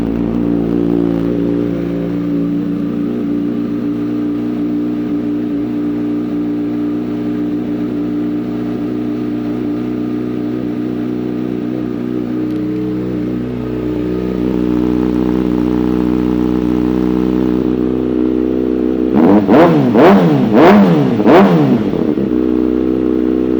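A 2013 Kawasaki Ninja ZX-6R 636 motorcycle engine idles steadily up close, then gives several sharp revs near the end.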